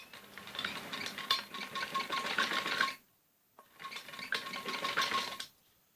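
Close sewing machine stitching on a kameez neck strip comes in two runs of rattling, clicking needle action, separated by a brief silence and ending abruptly.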